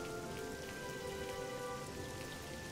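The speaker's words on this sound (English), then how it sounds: "Ah, yes, it's raining." Rain falls steadily in Oblivion, a dense, even patter with no breaks or voices, held at a moderate level throughout.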